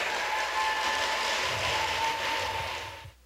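A tournament audience claps in a sustained round of applause, a dense even wash of hands that carries for about three seconds before cutting off abruptly.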